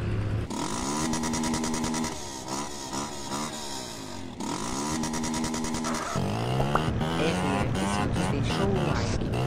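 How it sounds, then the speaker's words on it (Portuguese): A motorcycle engine idles up close with a steady, throbbing putter that dips and recovers a couple of times before settling into a slightly faster, rougher idle; no talk over it. "Ó a lenta da moto, ó."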